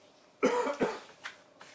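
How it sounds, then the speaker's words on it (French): A few sharp coughs close by, two strong hacks followed by a couple of smaller, fainter ones, with no talking. "Et arrête de tousser."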